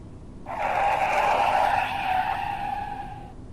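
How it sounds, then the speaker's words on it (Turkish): A car brakes hard with tires skidding in an animated horror scene, one sharp screech lasting about three seconds, loud and alone before fading out. "Aniden frene bastım."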